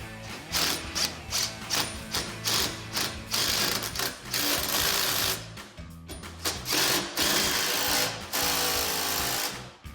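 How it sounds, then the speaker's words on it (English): Ratchet socket wrench tightening the sway bar end links on a Jeep Wrangler TJ, loud rapid clicking in bursts of about a second with short pauses between, close up. "we can come back with our 18 millimeter wrench and our 15 millimeter socket and tighten the end links to the sway bar"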